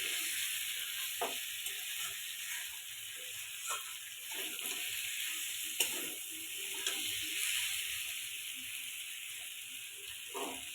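Spice masala for an egg curry with potato and cauliflower sizzles quietly in a pan, a soft continuous hiss broken by a few light stirring scrapes and ticks.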